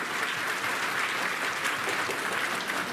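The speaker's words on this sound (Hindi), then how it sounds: "एक बार अपने लिए ताली बजाओ" A crowd at a labour union rally claps continuously, a thick, even wash of applause that stays steady throughout without a break.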